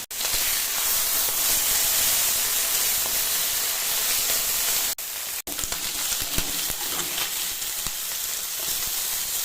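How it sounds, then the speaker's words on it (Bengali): Small fish fry in a pan with a loud, steady sizzle and hiss that runs nearly nonstop, broken by a brief dip midway. "মাছ ভাজা হয়ে গেছে, এই খোলা ছোট হয়ে গেছে, সব তুলে এরকম ভাবে বাকি মাছগুলো ভেজে নেব"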